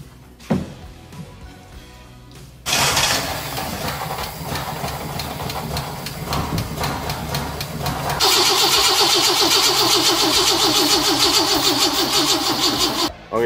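A 1965 budget lowrider rat rod's engine cranks with a rough, stuttering churn, then catches and roars into a loud, steady idle that grows fuller and louder near the end. The sound is close and dominates throughout, with no speech.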